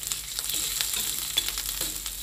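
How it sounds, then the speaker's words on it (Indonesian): Spice paste of turmeric and nutmeg sautéing in a hot pan, a steady crackling sizzle with soft stirring scrapes, close and fairly quiet, no voices. "ini cikgu tumis bumbu yang tadi sudah disiapkan"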